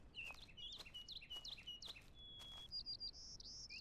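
Bird chirps from a video game set in the Pacific Northwest wilds, a series of quick high tweets and short whistled calls repeating over a faint ambient background, quiet overall.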